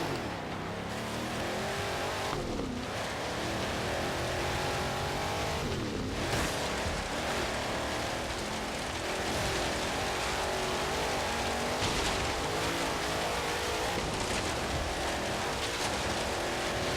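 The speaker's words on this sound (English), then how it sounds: "Trying to navigate through trees is a lot harder with a raised car." A raised car revs and slides while weaving among trees in the Forza Horizon 3 video game, with a continuous loud engine drone, shifting pitch and occasional tire squeal throughout.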